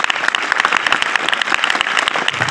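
Students at a Class 10 school farewell ceremony give a loud, sustained round of applause, dense overlapping claps continuing without pause.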